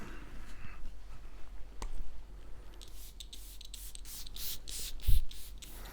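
Rubbing and handling noises give way to a quick series of short perfume spray-bottle spritzes (Goutal Nuit Étoilée), followed by a soft thump.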